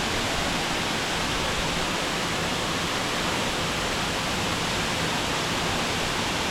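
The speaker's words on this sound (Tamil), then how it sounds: "எவ்வளோ அழகாக தண்ணி வந்து ஃபோர்ஸாக விழுதுன்னு மட்டும் பாருங்கள்" Palaruvi Waterfall in Kerala, water falling with force in a steady, loud, broadband roar that stays unbroken throughout, with no voices.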